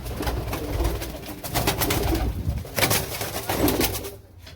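Fancy pigeons coo in their coop in a low, repeated murmur over a steady broadband background hiss, with several overlapping calls close by.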